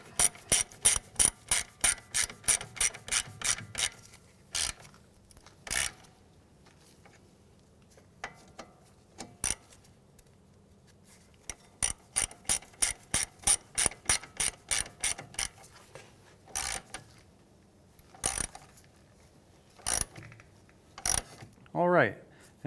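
Ratchet wrench clicking rapidly in repeated bursts while tightening 12 mm strut bolts on a 2015-2019 Hyundai Sonata, close and crisp, with short pauses between runs and brief muffled talk.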